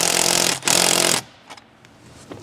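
A power tool tightens the inside hose clamp on Pusher PowerFlow intake piping for a 6.7 Ford Super Duty: two loud, steady buzzing bursts of about half a second each, then quiet with a few faint clicks.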